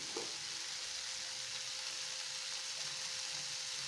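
Steady hiss of sautéing in a pan with turmeric powder while making aloo paneer, a continuous, fairly quiet sizzle with a faint scrape of stirring near the start.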